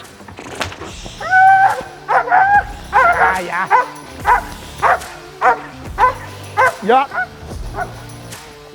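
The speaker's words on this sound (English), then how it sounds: "He is what I would call a very high drive German Shepherd." A high-drive German Shepherd protection dog barks repeatedly, with excited yips and whines mixed in, loud and close in a rapid, uneven rhythm, with a person speaking briefly.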